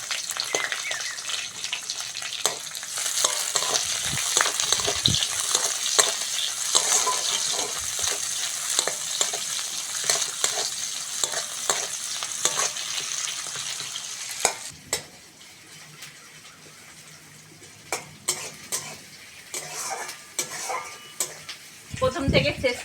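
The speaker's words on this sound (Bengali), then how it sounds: "ভালো করে পেঁয়াজ কাঁচা লঙ্কা রসুনটা ভেজে নিয়েছি" Onions, green chillies and crushed garlic fry for an okra curry, a close, busy sizzle with frequent spatula stirs and scrapes for most of the span, then quieter, sparser stirring clinks toward the end.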